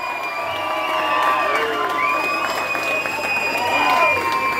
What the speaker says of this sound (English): Give Andrea a big round of applause